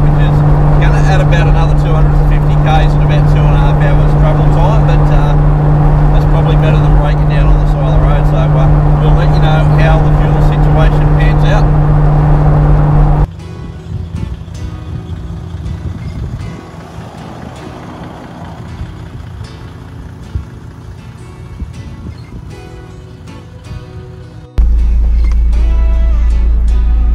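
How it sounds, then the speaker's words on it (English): A vehicle slowly putters down a road about a kilometre from the race course at an outback event, its engine a steady low drone, loud and close at first, then quieter with rumbling road noise, and heavy again at the end. "we're just slowly puttering down the road"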